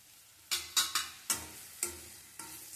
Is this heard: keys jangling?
no